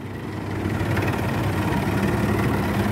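A 30-year-old tractor loaded with about 90 quintals of soil works in a deep pit. Its engine gives a steady, heavy, close idle-like drone with a faint vibration throughout, with no speech.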